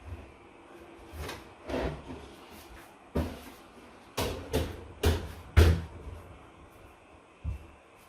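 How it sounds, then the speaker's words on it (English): Folding legs of a 34-inch square card table pressed and clicked into locking position, giving a series of sharp plastic-and-metal clicks and knocks at irregular intervals, close and moderately loud, with no talking. "we'll just press this to bend it, but then we'll click it into place and it should lock"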